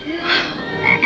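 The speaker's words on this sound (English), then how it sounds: "What in the world do you want with another toad?" A toad croaks in a rough, rasping call lasting about a second, fairly loud and close, with a brighter burst toward the end and no voices.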